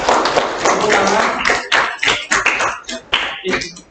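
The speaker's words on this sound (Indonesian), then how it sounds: "Tepuk tangan." A school class claps for a group that has finished presenting, a loud, brisk patter of many hands that thins into a few separate, scattered claps near the end.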